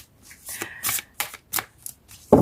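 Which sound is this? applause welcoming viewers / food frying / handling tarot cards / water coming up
handling tarot cards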